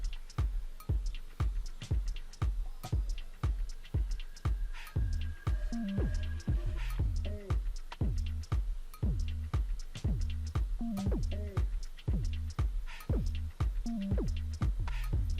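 A laser printer runs off a test page with a Proffisy 12A toner cartridge, giving a steady, evenly spaced train of sharp mechanical clicks and thumps with faint tonal whirs in the middle, close and alone for about fifteen seconds.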